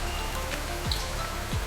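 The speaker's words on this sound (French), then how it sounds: "Une pluie fine traverse les feuillages." Light rain falls through forest foliage in a steady soft hiss, with scattered drops pattering on leaves and a couple of faint low thumps, with no voices.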